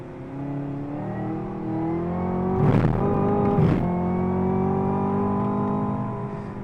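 A Chevy Camaro engine drifting around Dubai growls at low revs with a rising drone, and two short bursts of tyre scrub or throttle roar sound midway.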